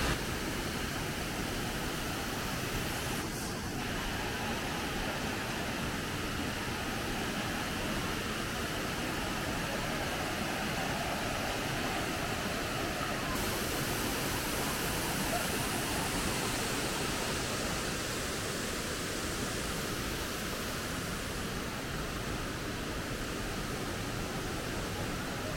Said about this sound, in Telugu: మంకీ వాటర్ ఫాల్స్ అయితే ఏమీ లేదు, జస్ట్ యాజ్ యూజువల్ ఒక వాటర్ ఫాల్ ఎలా ఉంటుందో అంతే